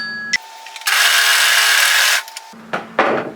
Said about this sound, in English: I'm going to serge that seam, remembering it's 6mm, 1/4 of an inch.